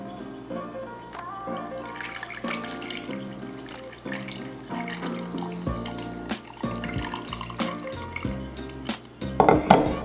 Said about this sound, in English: Just going to take my funnel. We want that brine to cover it.